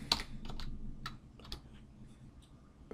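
Quick keystrokes on a computer keyboard, a short irregular burst of close clicks followed by a few spaced taps, alone and fairly quiet.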